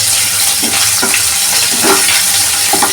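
Food cooking in a pan on a home stove at night, a steady loud sizzle and frying hiss with occasional stirring scrapes throughout.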